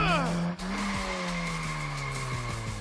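Car tires squeal in a long, high, sliding screech through a turn over a steady engine drone, loud and continuous, with a voice speaking briefly.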